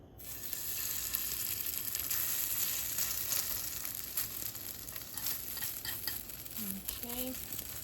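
Cabbage pancake batter fries in an oiled pan with a steady, close sizzle and crackle, broken by a few scraping spatula sounds near the end.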